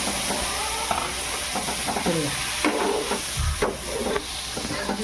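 Goat brain fried with turmeric in a pan, stirred steadily with a continuous sizzle and scraping strokes close by, loud and alone.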